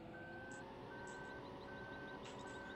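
A tractor in Landwirtschafts-Simulator 15 backs up with a steady, evenly spaced electronic reversing beep repeating four times over a low engine rumble.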